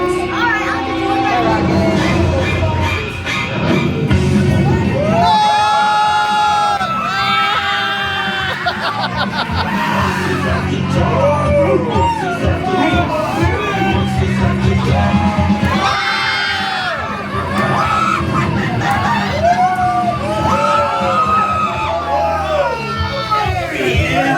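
Riders on the Guardians of the Galaxy: Monsters After Dark drop-tower ride at a California theme park yell, whoop and scream over loud, continuous ride music and announcer speech.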